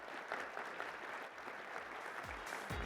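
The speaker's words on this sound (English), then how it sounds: "And let's all give Sheryl a round of applause" An audience at a general session of an electric vehicle summit applauds steadily throughout, a dense wash of clapping that holds at a moderate level.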